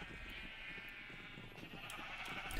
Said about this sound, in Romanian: Oh, da, ferma de oi.